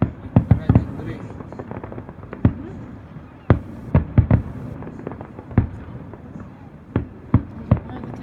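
Fireworks explode at the Jersey Battle of Flowers in 2016, a string of sharp bangs and pops, some in quick clusters and others spaced apart, heard at a moderate distance over a steady crowd murmur.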